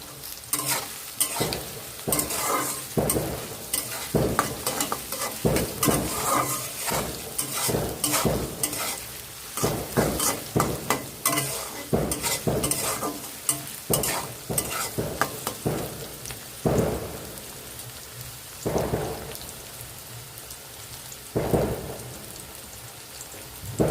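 Onions and chopped tomato frying in a pan for chicken bhuna khichuri, a steady crackling sizzle broken by repeated scraping stirs, loud and close throughout, no voices.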